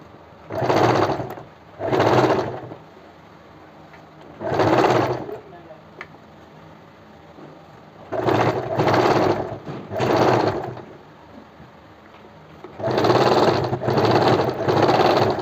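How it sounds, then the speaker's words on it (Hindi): Sewing machine stitching the neckline of a kurti blouse, running in short loud bursts of rapid whirring separated by quiet pauses, close up and with no talk over it. "इस तरह से फर्स्ट सिंगल सिलाई मैंने फिनिश कर दी है"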